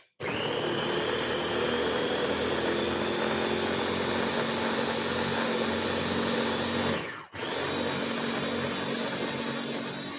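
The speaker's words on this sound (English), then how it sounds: "I'm going to grind it up again" An electric grinder grinds steadily, loud and close, with a continuous whine holding from start to finish except for a brief cut-out near the end before it resumes.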